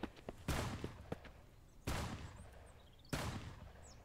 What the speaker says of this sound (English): Oh crap, okay, someone's shooting.